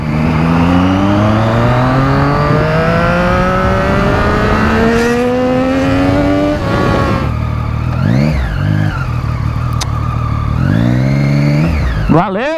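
A Peugeot car revving hard nearby, engine pitch climbing in long sweeps, then dropping and surging again in sharp bursts of throttle, loud and close.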